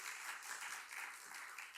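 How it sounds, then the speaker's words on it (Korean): Church audience at a Korean youth worship service claps in thanks, a soft, distant, even patter of many hands that stays steady with no voices over it. "감사의 박수로 감사하겠습니다"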